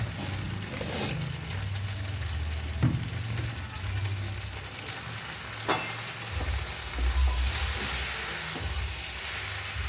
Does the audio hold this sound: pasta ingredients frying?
yes